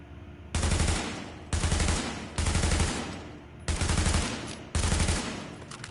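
L86 rifle in The Division fired at body targets on a firing range: five loud, sustained bursts of automatic fire, each roughly a second long, separated by brief pauses, with no talk.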